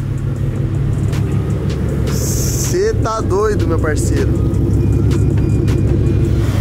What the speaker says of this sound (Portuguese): Mano, olha esse carro vindo, como é lindo, velho.